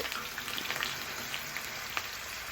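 Mustard seeds and cumin tempering in hot oil for an aubergine curry, a soft, steady sizzle with light patters and pops, fairly quiet and without speech.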